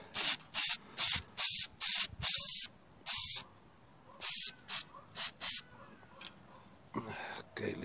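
Close bursts of spray paint as primer goes onto a metal trailer rail partly coated in powder coating, about a dozen short hissing passes in an irregular rhythm, each lasting under a second, some longer.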